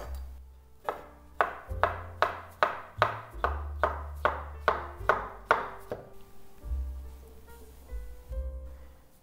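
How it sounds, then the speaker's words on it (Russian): A knife chops steadily through pickled cucumbers on a board, cutting them into quarters, about a dozen even strokes in a row, then a softer scrape and rustle as it trails off. "Тоже нарезаем их на четвертинки."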